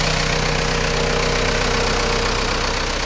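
A 1990 Case 586E diesel forklift engine idles steadily up close, a continuous low knocking drone with even mechanical vibration and no talking throughout.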